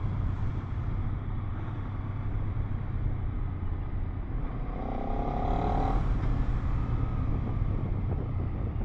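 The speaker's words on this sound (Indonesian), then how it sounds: "Rame cuy, jalanannya penuh dengan mobil" Steady roar of road traffic with engines passing and a vehicle rising and fading midway, continuous and fairly loud with wind rumble.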